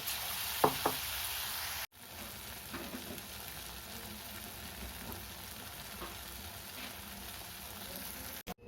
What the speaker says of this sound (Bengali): আমি একইভাবে পরের ব্যাচের বড়াগুলোকেও ভেজে নেব